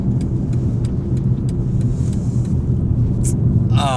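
A BMW 530i accelerates with a steady, smooth engine hum and road rumble heard from inside the cabin, moderately loud and continuous, with a brief chime near the end.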